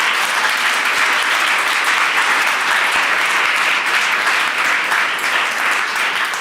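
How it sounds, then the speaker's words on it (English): Steady, dense audience applause at a digital ocean forum event fills the whole stretch with even, sustained clapping and no break or talk. "Can we please have another round of applause?"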